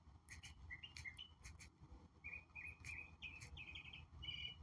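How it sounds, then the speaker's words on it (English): Several birds chirp and tweet in short, repeated bursts of song against a steady low background rumble, fairly clear and continuous throughout without any talking. "At the birds singing."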